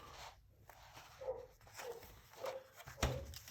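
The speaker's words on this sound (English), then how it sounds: "There we got a barking dog." A dog barks several times in short, faint bursts from a distance over a quiet background.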